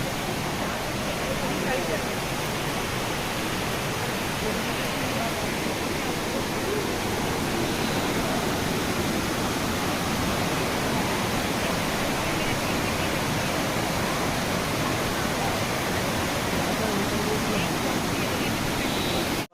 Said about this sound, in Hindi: हमारे पीछे ये दूसरा वाला फॉल है, एलिफेंट फॉल का सेकंड फॉल है।